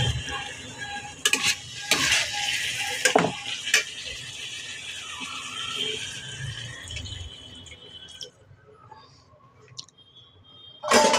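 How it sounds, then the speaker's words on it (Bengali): Water is added to a Hilsa fish curry with eggplant and nigella seeds, followed by stirring in the pan. A utensil clinks and scrapes against the metal in irregular strokes over a soft sizzle, then the sound fades to near quiet. "এবার জল দিয়ে নিচ্ছি"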